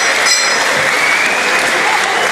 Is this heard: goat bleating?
no